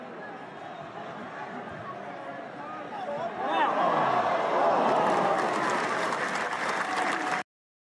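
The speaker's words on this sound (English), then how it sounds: "This was one section of the fans booing him." Football fans in a stadium section boo a player, a broad roaring crowd noise that swells midway and holds loud and continuous before cutting off abruptly.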